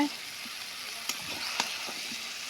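Cauliflower, beans, radish and tomato stirred in fried masala, a soft steady sizzle with a few sharp utensil scrapes against the pan, close and fairly quiet.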